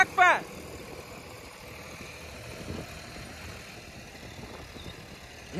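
A Swaraj 744 FE tractor engine runs at a low steady rumble, heard from a little distance on a stony road, with a brief voice at the start.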